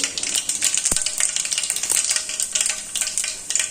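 Whole cumin seeds sizzle loudly in hot oil, a dense, steady frying hiss with quick popping crackles and a brief clink, close and continuous with no talking.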